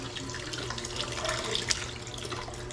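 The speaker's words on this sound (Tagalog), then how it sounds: "lalagyan ko siya ng tubig" Tap water running and splashing into a cooking pan in a home kitchen, poured to cook fish, a steady close liquid rush with small drips and no talking.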